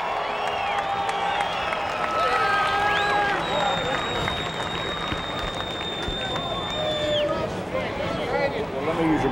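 A crowd at a sprint car race cheers and applauds for the winning driver, a steady wash of clapping, whoops and voices, with an announcer and other people talking over it throughout.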